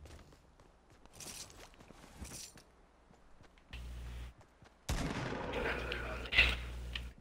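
Fortnite burst assault rifle gunfire, several sharp loud shot bursts and clattering impacts with quieter footsteps between them, getting louder and denser toward the end, with some talking.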